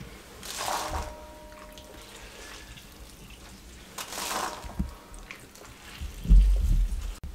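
Water-soaked pakoras are squeezed by hand, giving short bursts of dripping and splashing water separated by quiet pauses, with a thicker wet squelch near the end.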